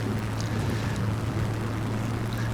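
A Spitfire fighter aircraft in flight gives a steady, loud, low engine drone that holds unchanged throughout, with no talking.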